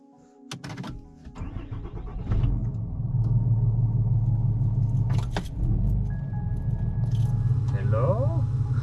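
A car's engine idles and rumbles steadily while reversing out of a driveway, then cuts out abruptly; people talk over the running motor, with a clink of keys near the start.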